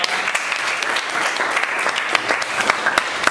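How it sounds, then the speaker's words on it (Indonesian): A high school classroom gives a round of applause for Alfa during a trigonometry lesson, a close, lively patter of many hands clapping unevenly, with some sharper individual claps. "Itu tepuk tangan ke Alfa."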